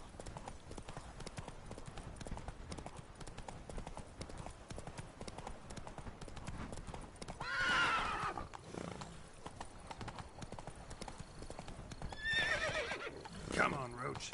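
Hoofbeats of Roach, Geralt's horse in The Witcher 3: Wild Hunt's Blood and Wine expansion, clip-clop steadily throughout, with whinnies around the middle and near the end and a voice talking over them.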